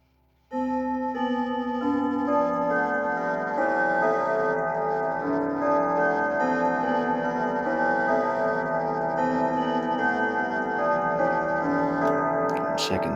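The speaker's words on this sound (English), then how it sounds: "Now I'll give you a view inside the clock when it does the three-quarter chime." Inside an old abandoned grandfather clock, steady ticking runs beneath a rich, layered three-quarter chime whose sustained bell tones ring loud and close from start to finish, with no talking.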